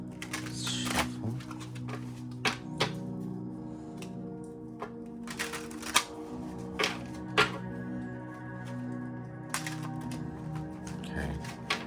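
Oracle cards being shuffled by hand, a series of soft papery riffles and sharp snaps at irregular intervals, close up over a faint steady background hum.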